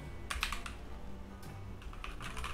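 Keychron K2 v2 mechanical keyboard being typed on, a few close, clicky keystrokes in short irregular bursts over a low background rumble.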